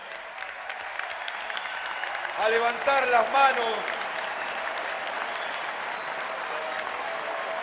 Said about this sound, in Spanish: Fuerte, pero fuerte el aplauso